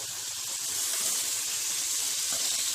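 Baby potatoes sizzling in a pan with masala over a low simmer, giving a continuous soft hiss that stays even and close across the whole stretch, with no voices.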